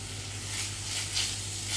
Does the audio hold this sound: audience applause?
no